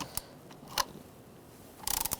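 A ratchet turns a 10mm socket to loosen bolts on the intake manifold of a 2000-2007 Ford Taurus 3.0L V6. A few isolated clicks come first, then a quick burst of rapid ratcheting close by at the end, with no talk.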